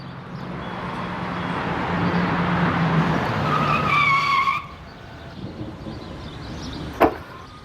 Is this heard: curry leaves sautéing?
no